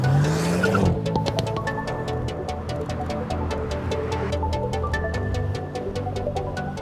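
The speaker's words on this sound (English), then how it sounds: "Then the engine will rev up to 3000, and whenever I want to go, I just lift the brake." Hyundai Kona N held on launch control, engine revved up near 3000 rpm then released, a loud sustained rev that drops into a hard pull with rising engine pitch and a brief rasp of tyre squeal at the start.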